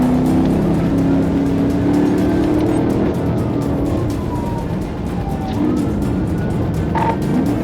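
A Chevrolet Impala speeds during a police chase, its engine roaring loud and steady with passing whooshes and shifting tones as it weaves through traffic.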